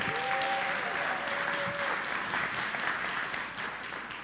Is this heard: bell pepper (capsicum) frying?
no